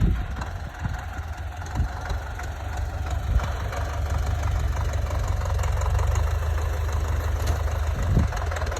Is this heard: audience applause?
no